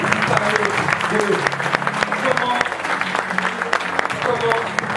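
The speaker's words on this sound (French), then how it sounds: "on peut l'applaudir s'il vous plaît" An audience claps for a guest speaker being introduced at a French-language talk on fears and hypnosis, a dense round of applause mixed with a voice speaking over it throughout.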